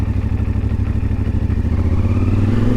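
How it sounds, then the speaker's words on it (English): A CFMoto Ibex 450 motorcycle engine idles and runs with a steady, loud, close low-pitched chug, a slightly uneven rough rumble that swells near the end, with no talking. "She's a little chuggy"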